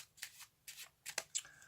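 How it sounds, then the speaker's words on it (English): A pack of playing cards is shuffled off onto the top in three or four short riffling bursts, close and quiet, with brief pauses between them. "Then you just shuffle the rest of the pack off onto the top."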